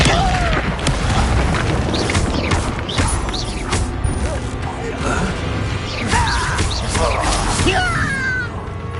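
Incendio fire spells are cast during a duel in the Hogwarts Legacy video game, giving repeated whooshing booms and crackling impacts over dense battle effects, with character voices calling out spells.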